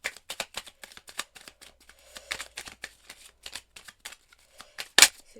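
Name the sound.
shuffling and drawing tarot cards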